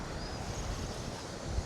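Strong wind blows out at sea during a fishing trip, a steady broadband roar buffeting the microphone with no voices, constant and close throughout.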